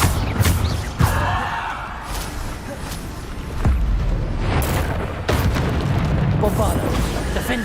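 Bombarda blasting spells in a Harry Potter video game, several heavy booms and bursts at irregular intervals over a continuous game background, with speech and exclamations mixed in.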